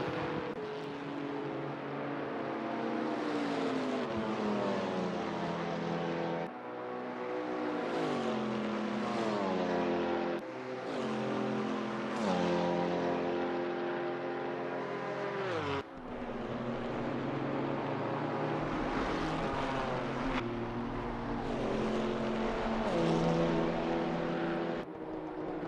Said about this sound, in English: As they come onto the front stretch, Quain has overtaken Smith